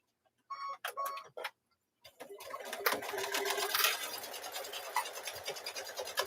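A sewing machine stitching a quarter-inch quilt seam, a few short starts and stops, then a steady, fast, close ticking run of stitches.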